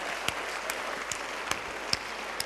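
Audience of keynote attendees claps in a short, even burst of applause, a dense patter of many hands with a few sharper individual claps standing out, steady and moderately loud.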